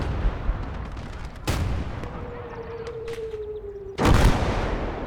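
Two heavy, booming shots from a World War II battle in the video game Gates of Hell Ostfront, fired at an M4A1 tank, land a few seconds apart with rumbling battlefield noise and a thin whining tone between them.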